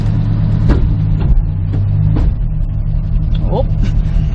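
A 1973 Dodge Dart Swinger barn find, driven for the first time in 29 years, its engine rumbling low and steady, with a few brief knocks and clicks over the idle and people talking nearby.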